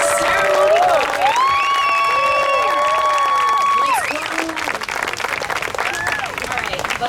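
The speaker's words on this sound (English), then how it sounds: "can we please clap it up to get this ceremony going?" Wedding guests clap and cheer before a ceremony, a loud steady crowd of applause with whoops and shouts riding over it, easing slightly partway through.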